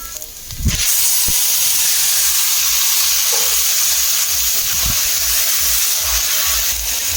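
Taro leaves drop into hot oil in a pan already holding fried green chillies, bursting into a loud, close, steady sizzle and hiss that starts abruptly and carries on without pause, with a few faint stirring knocks.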